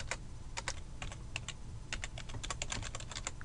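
Keyboard typing while entering HTML meta tag code in Dreamweaver, a steady run of quick, close clicking keystrokes in irregular bursts over a low background hum.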